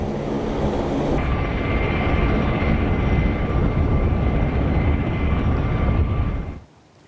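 An HH-60 Pave Hawk helicopter flies low over Iran, its engine and rotor making a loud, steady roar that holds for several seconds before cutting off abruptly.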